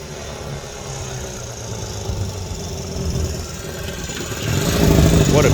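A classic 1965 Honda Dream Benly 150 motorcycle engine runs steadily at a low, even putter outdoors on a fall day, moderately close, growing a little louder toward the end.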